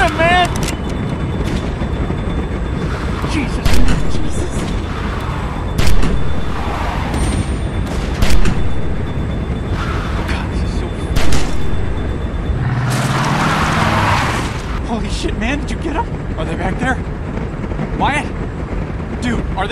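Gunshots in The Walking Dead: 400 Days video game, a few loud cracks spaced several seconds apart over a dense bed of engine rumble, music and shouting voices.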